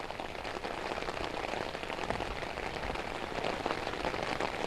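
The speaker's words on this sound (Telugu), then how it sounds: "ఈరోజు ఉదయం నుంచి కూడా ఉమ్మడి కరీంనగర్ జిల్లా వ్యాప్తంగా ఎడతెరిపి లేకుండా భారీ వర్షం కురుస్తుంది" Heavy, unbroken rain pours across the Karimnagar district of Telangana, a dense and steady hiss of drops drumming on surfaces that holds at an even level throughout, with no voices.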